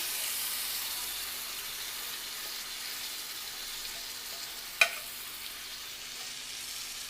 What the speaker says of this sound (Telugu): మసాలాను కూడా వేసి ఒకసారి కలిపి తిప్పండి.